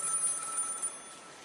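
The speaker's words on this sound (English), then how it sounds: "As soon as he passed through the door, the phone rang." A telephone bell rings steadily for over a second as a sound effect in a spoken ghost story, bright and clear with no talking over it.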